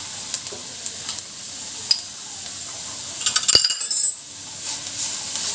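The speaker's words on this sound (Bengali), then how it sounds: "কারণ এখন এগুলোকে একটু তাড়াতাড়ি করে ভেজে নিতে হবে।" Onion, ginger and garlic sizzle steadily in a hot pan, a continuous frying hiss with a few scrapes and clinks of stirring in the middle, close and moderately loud with no talking.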